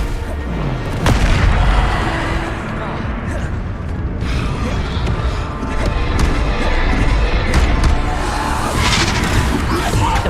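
Bombarda blast spells in the Hogwarts Legacy video game go off as repeated heavy booms and crashing impacts, loud and close amid continuous combat noise. A voice may be present under the blasts.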